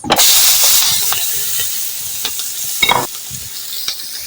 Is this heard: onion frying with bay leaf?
yes